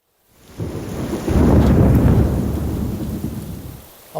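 Heavy rainstorm with thunder in Sicily: a rolling thunder rumble swells in after a brief quiet start and merges with a dense, loud hiss of rain that gradually eases toward the end.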